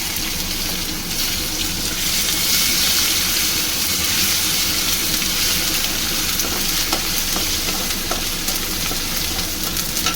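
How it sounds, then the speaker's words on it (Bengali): Chopped tomato frying and sizzling in hot oil with asafoetida, stirred steadily in a pan; a dense, continuous close-up hiss with faint scraping, no talking. "টমেটোটা একটু নরম হয়ে যাওয়ার জন্য আমি একটু তেলে নেড়ে চেড়ে নেব।"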